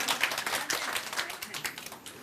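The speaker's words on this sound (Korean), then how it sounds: "오, 박수 박수." A classroom of students applauds during a lecture, a steady stretch of clapping that stays fairly even in loudness throughout, with some voices mixed in.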